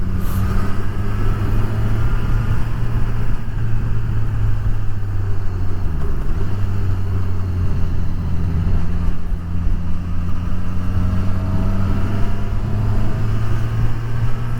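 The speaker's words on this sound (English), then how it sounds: "A little ride out on the Katana." A Suzuki Katana 1000 motorcycle rides steadily along on an outing, its engine holding a loud, even drone close by with wind noise and small shifts in pitch, and no talking.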